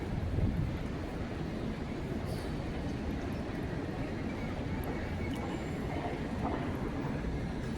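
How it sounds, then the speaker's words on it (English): A Long Island Rail Road train passing in Manhattan, a steady rumbling roar of rail cars with faint metallic squeals, continuous and fairly loud throughout with no talking. "Island Railroad trains are here."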